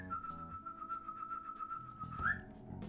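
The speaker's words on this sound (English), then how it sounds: "And I'm gonna whistle." A person whistles one long, steady note that bends upward at the end, played alone and fairly quiet.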